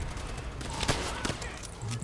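Gunfire in the video game Call of Duty: World at War, a burst of shots with one sharper report near the middle, heard over game noise and background chatter.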